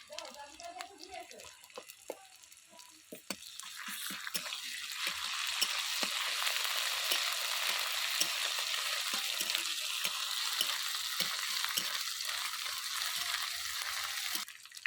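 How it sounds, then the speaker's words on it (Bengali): Ginger garlic paste goes into a pan of browned onions and bursts into a loud, steady sizzle that builds after a few seconds, with scattered stirring clicks close up. "পেঁয়াজটা লাল হয়ে গেছে দিয়ে দেব আদা রসুনের পেস্ট"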